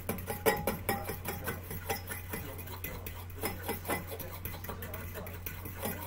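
Thick ranch dressing stirred quickly in a bowl, with rapid, rhythmic scraping and tapping strokes against the bowl over a steady low hum, close and moderately loud.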